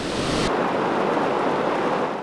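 A flooded brook on Route 112 roars hard and fast, throwing debris onto the street, as a loud, unbroken wash of rushing water fills the scene from close by without a pause.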